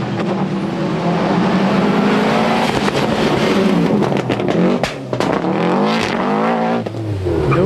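A rally car at the 1998 Lurgan Park Rally races close by, its engine revving hard and shifting through gears in rapid bursts, loud and nearly continuous with brief drops as the driver lifts off.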